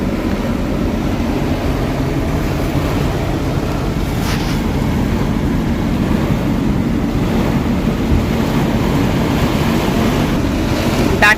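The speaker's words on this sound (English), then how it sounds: "This wind is fierce." Strong wind buffets the microphone at a boatyard where a trawler sits for a bottom job, a steady roaring rush running the whole time with no one speaking.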